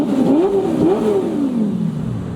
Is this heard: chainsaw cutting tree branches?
no